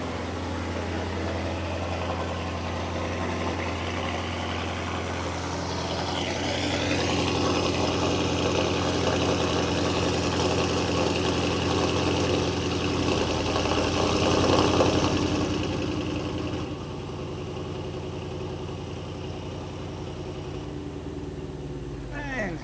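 An Audi TT engine idles steadily with a deep, continuous rumble, rising slightly in the middle before settling back, no talk over it.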